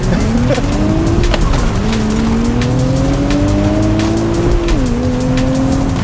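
A car with a manual clutch accelerates hard from a standstill toward 60, its engine note climbing loud and close through the gears with a brief dip at each shift.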